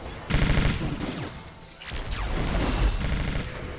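Surface battle gunfire in the real-time strategy game Metal Fatigue: continuous loud volleys of rapid shots and crashing impacts, with a brief dip midway before the barrage swells again.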